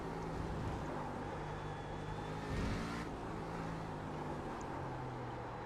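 An iRacing race car under hard braking gives a sustained, loud engine drone with a brief swelling rush in the middle before settling back to a steady hum.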